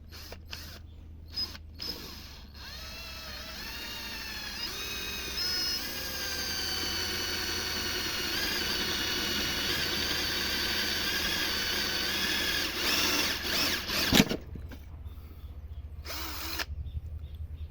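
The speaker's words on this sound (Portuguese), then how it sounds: "O importante aqui é tentar não deixar escorregar a broca, pra gente fazer os furos bem certinho" Electric drill boring into a homemade wooden crossbow stock. The motor whines steadily for about ten seconds, surrounded by a few short clicks and bumps, then stops and starts again briefly near the end.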